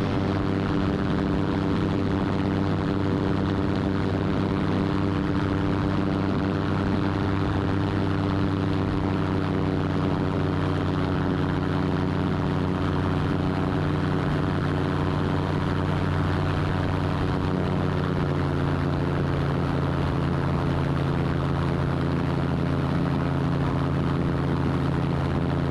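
A steady, droning propeller aircraft engine hums continuously in flight, loud and unchanging throughout with no voices.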